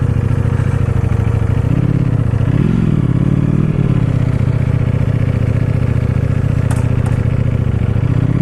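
A Ducati Panigale V4 motorcycle pulls away, its engine droning loud and close with a rising rev in the middle and a steady, continuous rumble throughout.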